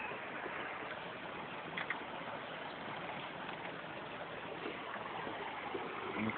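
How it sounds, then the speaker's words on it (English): Water flows beneath the floorboards of a creek room in a lodge, a steady soft rushing murmur with faint occasional ticks, quiet and continuous throughout. "There's water that flows underneath the boards"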